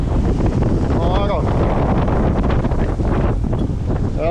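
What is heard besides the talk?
strong wind gusts on a sailboat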